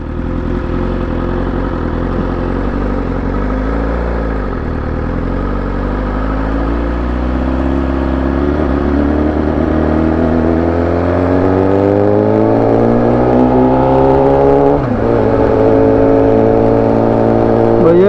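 A BMW motorcycle engine revs hard and loud, its pitch climbing steadily over several seconds, dipping briefly, then surging again, with no talk over it.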